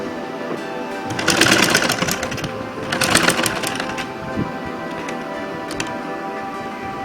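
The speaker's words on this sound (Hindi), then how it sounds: "इसे हम इस तरह से फोल्ड करेंगे और फिर इसे इस तरह से फोल्ड कर देंगे और इस पर सिलाई लगाएंगे।" Sewing machine stitching down a folded saree border, two close bursts of rapid rattling stitches with a pause between them, followed by quieter ticking and handling sounds.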